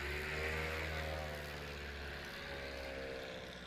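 STOL airplane back taxiing on the runway at Ontario Municipal Airport during competition practice, a faint, distant steady engine and propeller drone with a slowly shifting pitch.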